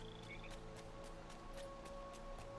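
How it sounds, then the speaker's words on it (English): Frogs croaking in Disney Dreamlight Valley, a faint, quiet chorus of evenly spaced croaks repeating about every quarter second over a soft steady ambient hum. "Alright, lots of frogs."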